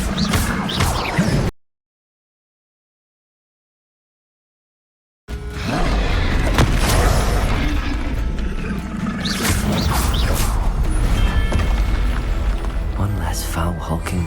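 A Confringo blasting curse goes off in Hogwarts Legacy: after a brief silence, a loud, sustained roaring burst of booming, crashing energy fills the rest of the clip, with a voice speaking over it.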